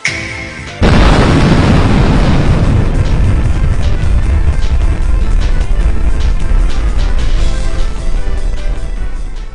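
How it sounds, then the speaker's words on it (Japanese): An animated explosion goes off in a Touhou MMD scene, starting with a sudden, very loud boom after a short quiet moment and then a long, roaring rumble that slowly fades over several seconds. "今回の勝負は伝統の爆発落ちで締めとしましょう。"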